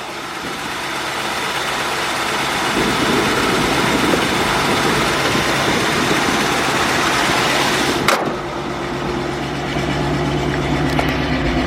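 A truck engine idles steadily after a cold start, a loud continuous rumble with a brief clank partway through before the idle settles back into an even drone, with no voices.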